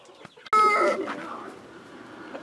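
A buff cockerel and chickens clucking in a brooder setting, a sudden loud burst of crowing-like calls and clucks that fades into softer, continuing fowl sounds close by.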